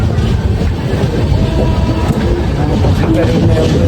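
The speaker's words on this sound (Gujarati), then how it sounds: "આપણે ટ્રેન હવે ભાગવા પડી છે" A passenger train bound for Haridwar runs along the tracks, a loud, close and continuous rumble with rhythmic clickety-clack from the wheels throughout.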